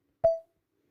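Second variant of the Samsung One UI ringtone volume sound from a Galaxy A12: one soft, brief tonal beep that decays within a fraction of a second, isolated and quiet.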